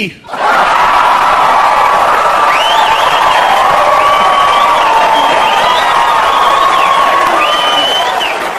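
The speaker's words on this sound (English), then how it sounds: "you guys are clapping and you're laughing" Large stand-up comedy audience laughing, whooping and clapping in a sustained, loud wave of crowd noise with cheers rising above it throughout.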